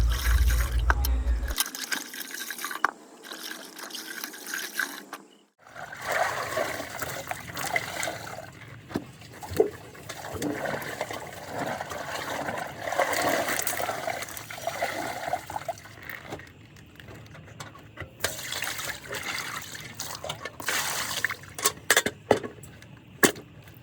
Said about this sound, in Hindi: इसके बाद मैं 2-3 बार अच्छे से साफ़ पानी से उन्हें साफ़ कर लूँगी।